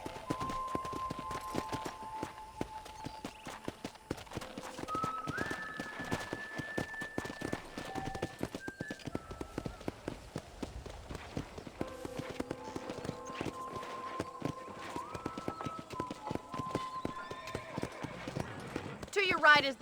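A horse's hooves clip-clop in the Red Dead Redemption video game at a ranch, a quick, steady trot that carries on throughout, mixed with a light music score while a voice talks over it now and then.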